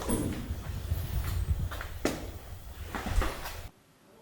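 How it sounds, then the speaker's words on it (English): A few dull knocks sound on a shower in a cabin at night, muffled thumps amid rustling and handling noise, with one clearer knock partway through before things go quiet. "I just had a knock happen on this shower right here."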